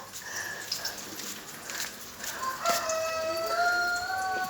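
Chickens cluck and call faintly in the background, with a few short squawks and a longer drawn-out call near the end.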